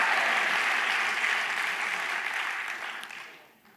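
A church congregation claps for a preacher, a dense, even burst of applause that holds steady, then thins and fades out near the end.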